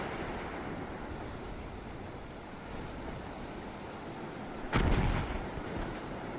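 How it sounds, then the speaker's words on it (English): Semi-automatic destroyer guns in a naval warfare game firing, heard as a single loud boom that stands out over a steady background rumble of sea and wind. "we got almost 11 rounds a minute that are just cranking out of these destroyers"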